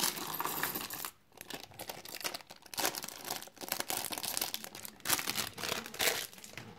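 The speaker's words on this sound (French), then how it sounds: "On va déjà ouvrir le petit sachet que j'avais complètement oublié d'ouvrir." A small plastic bag of LEGO pieces for a LEGO Movie 2 set is torn open and handled, giving close, loud crinkling and crackling with rattling pieces, continuous over several seconds with short pauses.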